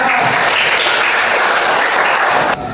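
Classroom applause following a student presentation, a loud, dense, continuous wash of clapping from many hands that cuts off sharply near the end.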